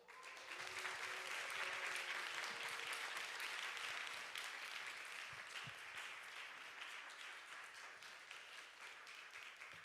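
Church youth congregation applauding to welcome a guest speaker to the stage, a full room of steady clapping that swells early and then gradually thins and softens, with brief voices underneath.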